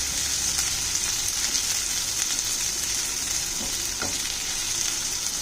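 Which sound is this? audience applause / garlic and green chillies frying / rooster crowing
garlic and green chillies frying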